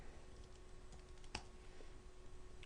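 Faint keystrokes on a computer keyboard while code is entered for a Visual Basic game, a few soft, scattered taps in a quiet room.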